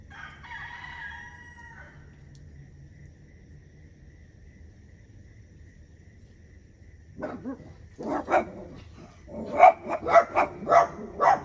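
Quiet at first, then dogs burst into barking, a few scattered barks building into a rapid run of loud, repeated barks near the end.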